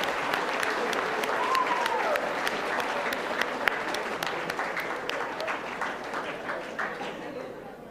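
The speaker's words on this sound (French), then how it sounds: "veuillez applaudir Malia Wake Up et Emiliane Prou" An audience claps steadily at a secondary school merit gala, with sharp individual hand claps standing out over the wash, while a faint voice is heard beneath.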